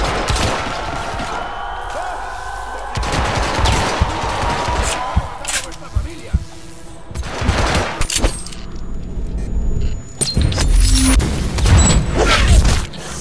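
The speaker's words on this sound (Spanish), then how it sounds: "Tenéis que aguantar los tiros estos." Gunfire in the stealth video game Hitman Absolution during a kidnapping mission, coming as bursts of shots and booms with mechanical clatter spread through the stretch, loud and dense at times, with game effects mixed in.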